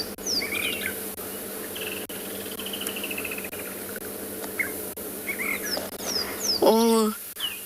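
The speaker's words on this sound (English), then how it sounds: "I can hear the drongo and see the drongo." Drongo calls ring out over a steady insect drone at sunrise in the South African bush, with a sharper burst of chattering near the end; a person speaks quietly.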